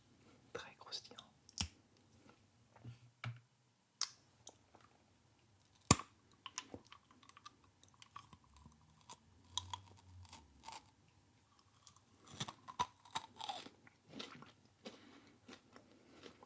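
Crunchy chocolate with a caramelized sesame layer inside, bitten and chewed in a quiet setting, giving scattered sharp crunches and clicks over soft mouth sounds, with faint whispered talk at times.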